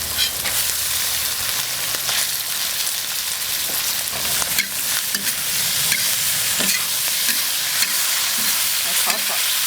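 Stir-frying in a wok with chili, ginger and garlic: a steady loud sizzle runs throughout, broken by repeated scraping and clanking strokes of the spatula, close up and with no voices.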